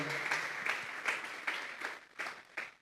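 Church congregation giving an offering of applause to God during a sermon, a steady wash of clapping with rhythmic surges roughly every half second, fairly quiet and even, no voices over it.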